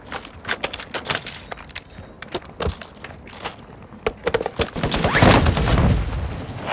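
Gunfire in Call of Duty Warzone 2.0 Resurgence mode: rapid bursts of sharp shots, some close and loud, others scattered, with a dense barrage building near the end.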